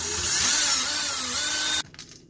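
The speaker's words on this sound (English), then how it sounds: "this being ancient wood, I will do the honors and pre-drill first" An electric power drill bores a pilot hole into very old wood, a steady high whine held loud and close for nearly two seconds, then cutting off abruptly with a short rattle as it stops.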